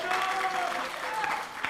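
Brief, steady applause from a youth group audience for a speaker, a dense patter of many hands at moderate volume with faint voices underneath.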